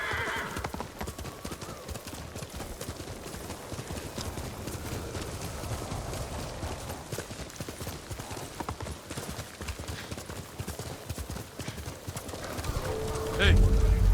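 Horse hooves clip-clop steadily and close in the video game Ghost of Tsushima, with whinnies mixed in, continuing for the whole stretch beneath game speech and ambient sound.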